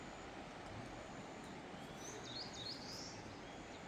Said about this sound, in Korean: 물소리, 새소리에 한번 취해봅니다.